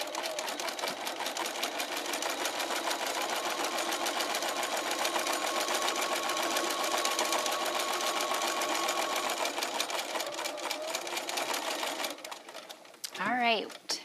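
A sewing machine stitches strips of necktie fabric for strip quilting, running in a long continuous rapid whir nearby for about twelve seconds, then stopping as a voice briefly speaks.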